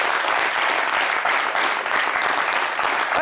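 A studio audience at a television show claps together in dense, sustained applause, loud and even for the few seconds heard.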